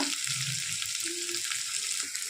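Small onions sauté in a pan for a black urad dal chutney, a steady close sizzle and hiss with faint stirring, no one talking.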